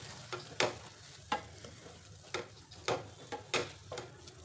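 Vegetables stirred in a pan with salt and crushed peanuts for a no-onion, no-garlic festival thali: a handful of scraping, clattering strokes at uneven intervals, fairly close, with no talking.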